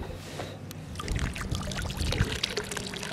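Water pours steadily from the return line of a homemade wheeled solar pool heater outdoors, a continuous splashing trickle with a faint knock partway through and no talk.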